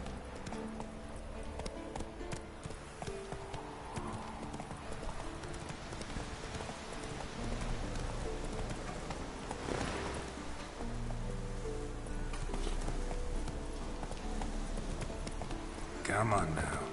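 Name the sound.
horse Roach galloping, hooves, in video game The Witcher 3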